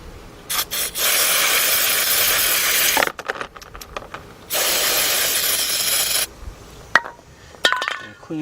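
Carburetor cleaner hisses from an aerosol can in two long bursts and a shorter one onto a spark plug from a 1999 Nissan Altima, close up, with clinks and handling noises between the sprays.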